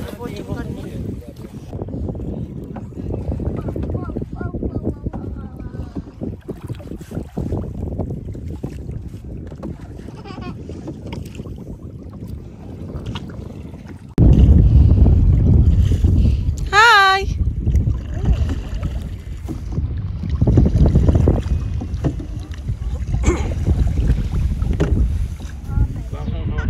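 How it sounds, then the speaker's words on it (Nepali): A boat out on Siblyback Lake in Cornwall, wind and water noise against the hull with paddling or rowing sounds, louder in the second half, and voices talking throughout. "ओ त्यहाँ छ अब चाहिँ बोटिङ गर्ने"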